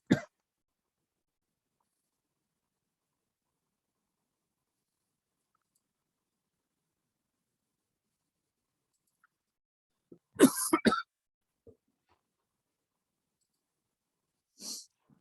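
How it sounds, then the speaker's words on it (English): A few isolated, close coughs break up long stretches of silence, with one rough cluster of coughing in the middle and a single cough near the end. "I've been coughing like this for a few days now"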